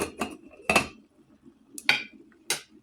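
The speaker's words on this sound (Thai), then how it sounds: "เราจะปิดฝาค่ะ" A lid set onto a pot of Thai sour fish curry with fish heads, giving a few sharp metallic clanks and clatters close by, spaced out over a couple of seconds.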